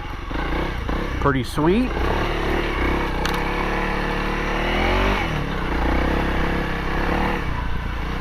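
A 2023 Honda CRF300L dual-sport motorcycle is ridden in second gear. Its single-cylinder engine drones steadily close by, with a brief rev partway through, while the rider speaks over it.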